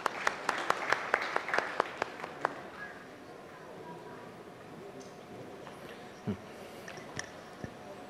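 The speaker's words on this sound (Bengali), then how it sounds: "আরও একবার একটা জোরে হাততালি হয়ে যাক" Audience applause at an award ceremony, a burst of clapping that fades after a few seconds into quieter room noise with scattered claps and faint talk.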